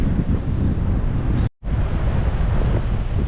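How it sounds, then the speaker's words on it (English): Strong coastal wind buffets the microphone in a loud, continuous roar, briefly cutting out for a split second midway before the gusting rumble resumes unbroken. "I appreciate it's as windy as hell and you might not be able to hear me"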